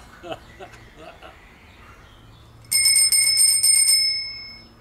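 A few soft knocks and small sounds, then a bright bicycle-style bell rings rapidly for about a second and a half before stopping.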